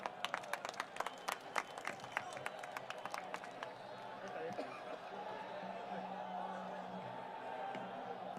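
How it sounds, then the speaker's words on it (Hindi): A political rally crowd in Surat, Gujarat claps to welcome AAP leader Arvind Kejriwal. Sharp, scattered clapping fills the first half, then thins into a broad, distant crowd murmur. "जोरदार तालियों के साथ स्वागत करें।"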